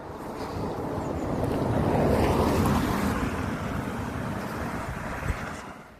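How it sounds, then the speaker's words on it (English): A river flows through Betws-y-Coed, where several streams and rivers converge, on a winter walk, giving a steady broadband rush of water mixed with gusting wind noise across the microphone; no voices. "Here's another river."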